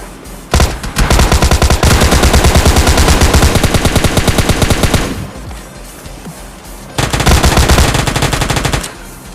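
Loud automatic gunfire from the PUBG Mobile Lite video game comes in long rapid bursts. Several seconds of continuous firing are followed by a short pause and another burst.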